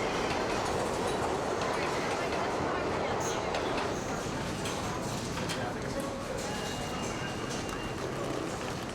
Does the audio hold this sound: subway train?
yes